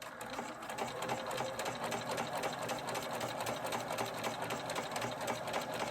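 A sewing machine stitches a small Christmas stocking, its steady rapid needle chatter running continuously at a moderate, fairly close level with no pauses.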